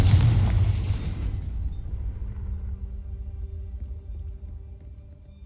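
A Confringo spell blast in the game Hogwarts Legacy, one loud booming explosion at the start that rumbles and fades over several seconds, alone with no talking.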